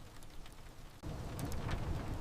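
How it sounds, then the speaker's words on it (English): Rain falls on the roof above a simple loft, a faint steady hiss of patter that swells noticeably louder after the first second. "listening to the rain on the roof"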